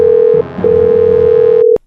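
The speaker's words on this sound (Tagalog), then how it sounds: "tawagan ko lang" A phone line's steady tone sounds as a call is placed, a loud sustained beep broken once by a brief gap, then cut off abruptly near the end.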